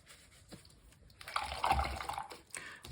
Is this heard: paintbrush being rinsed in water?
yes